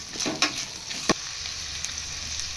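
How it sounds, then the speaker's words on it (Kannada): Onion and capsicum fry in oil for gobi manchurian, a steady close hiss and sizzle punctuated by a couple of sharp stirring clicks, brief and without speech. "ಕ್ಯಾಪ್ಸಿಕಮ್ ಹಾಕ್ತಾಯಿದ್ದೀನಿ ಅದು ಕೂಡ ಚೆನ್ನಾಗಿ ಫ್ರೈ ಆಗಬೇಕು"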